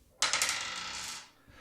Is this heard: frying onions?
no